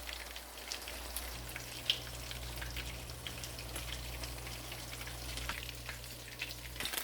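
Mackerel fish frying in a pan, a soft continuous sizzle and crackle with scattered small pops and spits of hot oil, quiet and steady with a low hum beneath.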